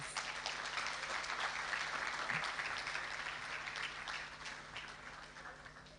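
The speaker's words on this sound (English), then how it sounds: "y'all should give him a second round of applause" Graduation audience at a secondary school ceremony gives a second round of applause, steady dense clapping filling the hall throughout, fairly even in loudness and easing slightly toward the end.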